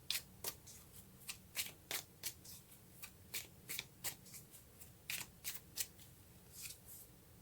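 A deck of tarot cards is shuffled in quick, crisp riffles and taps, one burst after another, close up but quiet, with no voices.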